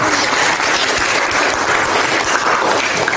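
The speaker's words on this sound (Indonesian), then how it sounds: "tepuk tangan dulu buat pertanyaan" A classroom of students applauds during an Indonesian-language lesson on editorial texts, a dense, steady wash of many hands clapping that holds at full loudness throughout with no voices over it.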